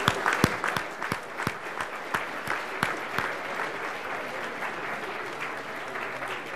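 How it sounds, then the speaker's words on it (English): A conference audience at the MIT tech event claps in warm, sustained applause, sharp individual claps standing out near the start before the sound settles into steady, even clapping. "applause."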